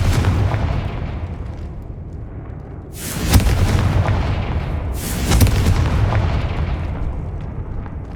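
Confringo fire spell blasts in the Hogwarts Legacy video game: two heavy booming explosions a couple of seconds apart, each with a bright crackling burst, over a constant rumbling game background.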